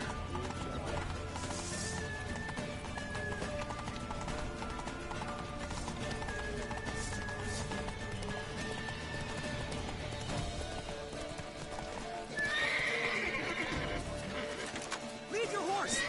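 Rhythmic clip-clop of a galloping horse in a video game runs throughout, with a neigh near the end, under game music and occasional voices.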